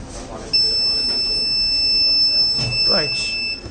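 An accident-alert buzzer on an IoT-based vehicle accident detection and rescue system sounds a continuous high electronic tone, with a voice speaking faintly beneath it.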